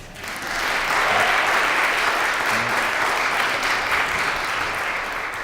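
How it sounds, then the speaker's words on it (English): Dense, loud audience applause at a live talks event, a continuous roar of many hands clapping that rises quickly and holds steady to the end, with no talking over it. "So more applause, maybe?"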